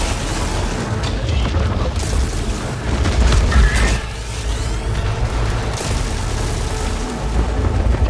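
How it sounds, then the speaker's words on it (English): Rocket launcher explosions in the game Returnal make a dense, loud, booming rumble that runs continuously, with sharp bursts and crackling debris layered over a heavy low roar. "could get used to a rocket launcher like this."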